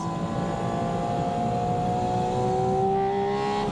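A Porsche 718 Spyder RS carves through winding curves, its engine a steady, sustained drone with a rising tonal whine near the end, heard from inside the car with no voices.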